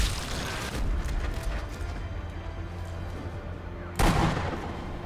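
Sniper rifle shot in the Sniper Elite V2 video game, a sudden broadband blast near the end that stands out above a dense, rumbling battlefield ambience.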